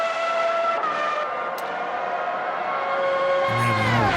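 A Forti Ford Formula 1 car from a 1995-season mod in Automobilista 2 at Imola, its high engine note holding steady then dropping as it eases off after crossing the line, with a low rumble entering near the end.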